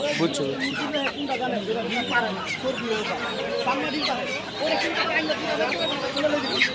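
Roosters at a busy poultry market cluck and call repeatedly in a dense, overlapping chorus, with people talking throughout over the birds.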